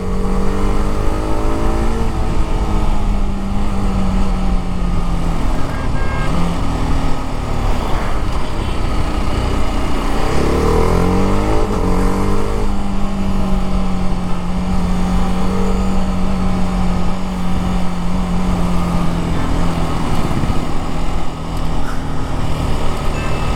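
A TVS Apache RR310 motorcycle being ridden, its engine droning steadily with rising and falling revs amid traffic, loud and close throughout with no talk.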